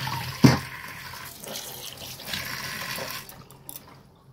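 Tap water runs and splashes in a kitchen sink while fish is rinsed, starting with a sharp splash and continuing as a steady, fairly close wash that tapers off near the end.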